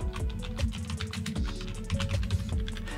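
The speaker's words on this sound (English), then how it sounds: "I'm just going to start typing and it will create a new one." Rapid clicking keystrokes on a computer keyboard come in quick, irregular bursts, close and fairly loud, over a low background hum, with no voices.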